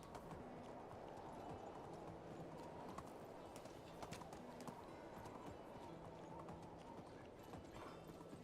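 Horse hooves trotting in Medieval Dynasty, an even clip-clop rhythm repeating steadily over a soft outdoor ambience, faint and continuous with no talk.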